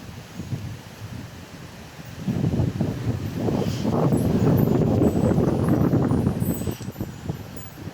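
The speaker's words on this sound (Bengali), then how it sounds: "প্রচণ্ড বাতাস হচ্ছে।" Strong gusts of wind sweep across a hillside in the rainy season, buffeting the microphone with a deep roar that swells louder partway through and keeps blustering without any talk.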